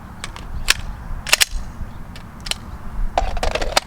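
Gunshots at an outdoor shooting range crack out in a quick irregular string of sharp, loud reports, several in close succession, with no talking between them.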